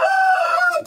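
A rooster crows in one sustained, loud, close call that fades off at the end, with chickens around it at a farm coop.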